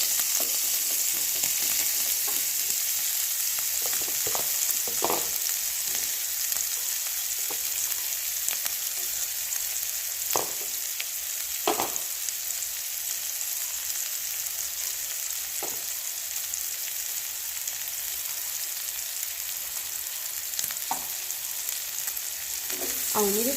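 Bitter gourd frying in oil, a steady close hiss and sizzle throughout with occasional soft clicks and spatters from the pan, no voices.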